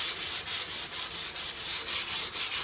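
Sanding block rubbing back and forth over Evercoat 4:1 polyester primer on a car fender, a steady run of close, loud rasping strokes in even rhythm, with no talking.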